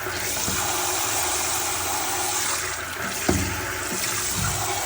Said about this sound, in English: We have to wash them the same as the dried ones 2 to 3 times to remove the salt.